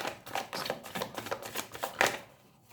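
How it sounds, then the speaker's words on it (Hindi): Tarot cards are laid down one after another onto a surface: a quick series of soft, close slaps and shuffling flicks, then a brief quiet at the end. "पहले मैं हर एक कार्ड्स को नीचे कर देती हूँ"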